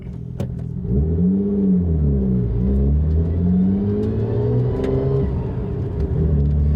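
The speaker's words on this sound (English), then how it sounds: "Just take off like a normal car." A Nissan R33 Skyline GT-R fitted with a track clutch revs up and pulls away, rising and falling in pitch through a few gear changes, close and steady with no talking.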